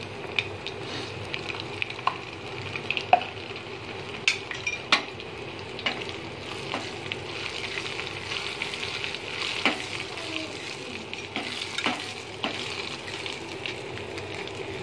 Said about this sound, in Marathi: आता तेल तापलेलं आहे, त्यामध्ये आपण जिरं टाकणार आहोत. लसूण टाकणार आहोत.